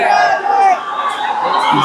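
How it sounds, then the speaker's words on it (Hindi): A crowd of student protesters at a parliament march in Delhi roars and shouts together, a loud, continuous mass of voices with cries rising above the din. "एक बार फिर से भीड़ निकल चुकी है"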